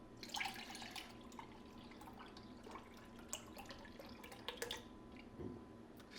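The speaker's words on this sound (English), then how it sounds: "So pouring some of this yogurt mixture in this bowl." An almond milk yogurt mixture pours into a bowl with soft, quiet trickling and dripping, faint and uneven, amid light clinks of handling, with no one talking.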